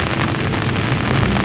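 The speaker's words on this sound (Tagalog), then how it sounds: "lumalakas-lakas na naman yung ambon niya, oh" Steady drizzle thickening into heavier rain outdoors at a traditional fishing spot, a dense continuous hiss of drops with no talking.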